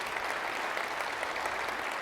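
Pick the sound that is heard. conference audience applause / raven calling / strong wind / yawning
conference audience applause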